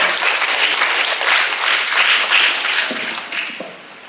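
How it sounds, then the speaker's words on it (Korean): Audience applause at an international symposium on therapeutic horseback riding, welcoming a speaker to the podium: a dense, steady wash of many clapping hands that gradually thins and fades toward the end. "강연하실 김진갑 원장님을 박수로 맞이해 주시기 바랍니다."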